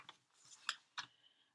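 Scissors snip through a piece of pumpkin-colored cardstock for a candy corn Halloween card: three or four quiet, close, crisp cuts with short gaps between them.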